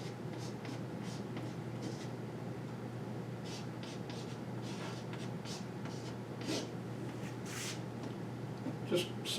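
Pen or marker writing out a math expression for polar area increments, with short scratchy strokes at close range over a steady low background hum.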